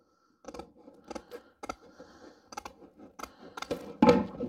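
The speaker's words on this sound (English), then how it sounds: "So now I'm just going to cut this." Scissors cut material while making a Snelgrove board, a series of about eight close, crisp snips at an uneven pace, the last one louder and longer.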